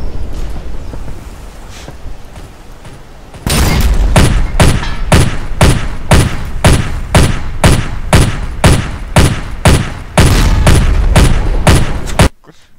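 Gunfire in the Wolfpack submarine video game: loud, heavy shots booming in a steady rhythmic volley, one roughly every half second, after a quieter rumbling stretch.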